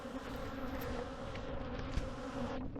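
Honeybees from a hot, defensive colony buzz in a steady, dense drone close by, a continuous insect hum with no voices.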